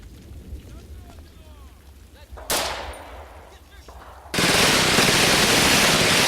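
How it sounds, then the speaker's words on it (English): Gunfire and incoming mortar rounds in the WWII tactics video game Combat Mission Red Thunder, with a quieter stretch of shots giving way to a sudden loud, sustained roar of heavy firing in the final seconds. "Mortars are going to start coming in."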